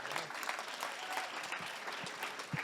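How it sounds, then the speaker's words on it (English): Audience clapping at an evening social event of a conservation gathering, a steady, moderately distant wash of applause from a crowd lasting a few seconds. "So please, a big applause to them."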